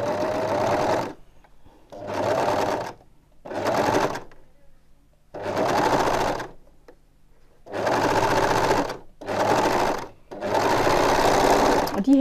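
A sewing machine stitches the shoulder seams of a blouse with a one-centimetre seam allowance, running in seven loud bursts of steady whirring separated by short pauses, with no talking.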